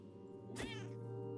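A single short cat meow in the video game Iris and the Giant, clear and close over a steady background hum of game music.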